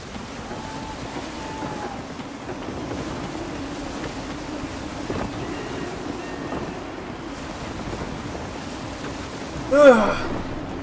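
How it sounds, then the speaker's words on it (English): Gusty wind and surf at sea from a sailing ship in Assassin's Creed III, a steady rushing blow over waves with low rumble, a brief louder creak or cry near the end, no talking. "Gusty winds can be difficult to manage."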